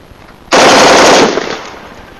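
An M4 rifle fires a single loud, sharp burst close up during ground shooting instruction, followed by a short decaying echo.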